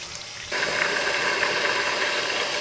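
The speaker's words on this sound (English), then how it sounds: "we're gonna cover this whole thing with hot water." Hot water gushes steadily into a pot of smoked elk bones for broth, a continuous splashing pour that starts abruptly and keeps going without a break.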